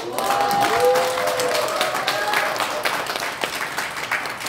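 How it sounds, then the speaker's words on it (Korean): Applause from a seminar audience at a lecture on microcurrent, a loud burst of many people clapping that thins out over several seconds, with scattered voices underneath. "그럼 한번 박수 한번 주세요"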